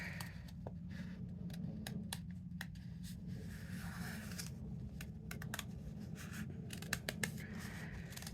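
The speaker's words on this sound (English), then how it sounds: "all I'm going to do is cut out a Christmas tree shape." Scissors snip through several layers of folded paper to cut out a Christmas tree shape, giving quick, irregular crisp clicks and rustles over a low background hum, quiet and close.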